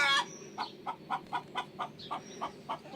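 A hen clucks near a vegetable garden: a short call, then about eight evenly spaced, close clucks in a steady rhythm over quiet background.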